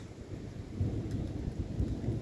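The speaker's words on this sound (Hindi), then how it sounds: "बादलों की गरजने की आवाज़" Thunder rumbling from clouds in a hill region of Uttarakhand as rain sets in, a faint, low, continuous rolling rumble heard from a distance.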